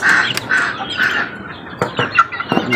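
A young chicken gives several short, raspy calls in quick bursts, close and fairly loud, with brief pauses between them and no talking.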